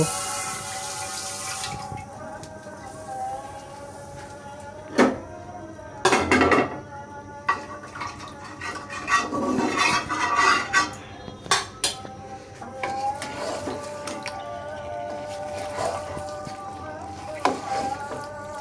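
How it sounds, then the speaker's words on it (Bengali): Chicken being stir-fried with spices for dhaba-style chicken, a spatula clanking and scraping against the pan in irregular bursts, moderately close, over a low steady kitchen background. "এখন ঢেলে খুব ভালোভাবে নাড়াচাড়া করে মশলার সাথে মিশিয়ে কষাতে থাকব"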